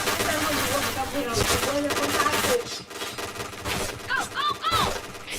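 Gunfire in the first-person shooter Point Blank, rapid bursts of shots and sharp impacts under a player's talk, with a few ricocheting whine effects near the end.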